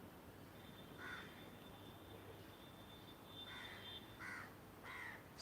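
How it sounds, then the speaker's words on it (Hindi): Crows caw outdoors in a quiet morning setting, giving about four or five short, moderately distant calls spread irregularly over a soft background hiss. "अपने कानों से पक्षियों की मधुर आवाज़ सुनिए।"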